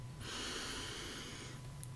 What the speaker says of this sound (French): Et vous allez prendre une grande inspiration avec le nez.